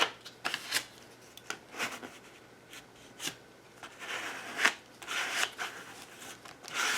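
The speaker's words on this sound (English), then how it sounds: "Go in with my card, smooth it out." A card drawn over paper to smooth it flat for an image transfer in an altered book, making soft intermittent scraping and rubbing swishes, close and faint with pauses between strokes.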